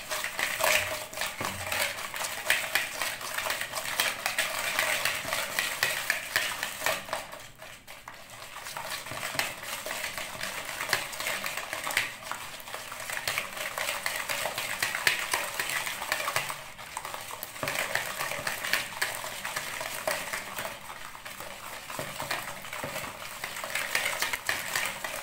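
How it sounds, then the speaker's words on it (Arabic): A utensil stirs harcha batter of semolina, yogurt, oil, vanilla and eggs in a bowl, producing close, continuous scraping and wet clicking with rhythmic strokes and a brief pause midway. "غادي نخلطوا هاد المكونات كلها"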